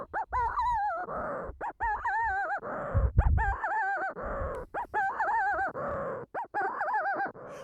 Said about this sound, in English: the Manx Shearwater